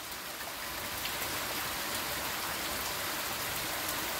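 Steady rain pours down outdoors, a dense continuous hiss of drops on surfaces, even and unbroken with no voices.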